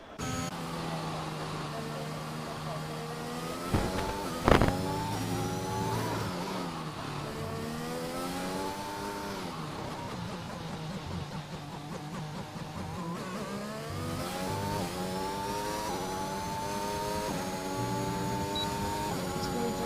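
A Formula 1 car engine in a multiplayer F1 racing video game screams on a flying lap, pitch rising and dropping through gear changes and braking, with a commentator's voice underneath throughout.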